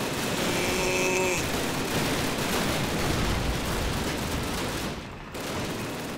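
Sustained, dense gunfire from Call of Duty 1, continuous rattling shots filling the whole stretch at close range and high volume, with a brief drop near the end.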